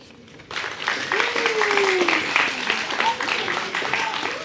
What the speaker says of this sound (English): Give a big round of applause for Thomas, y'all.